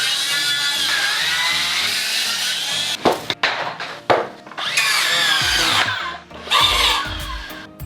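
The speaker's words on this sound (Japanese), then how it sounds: "知り合いの大工さんからもらったコード式の丸ノコあるんで、これ使っていきます。" A corded circular saw cuts wood while a homemade car ramp is built in a garage, giving a steady high whine that breaks into sharp, uneven bursts as the blade bites and slows.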